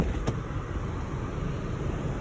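A 2009 Honda Civic, repaired after an accident, idling steadily at operating temperature, a low continuous engine hum with a brief click early on.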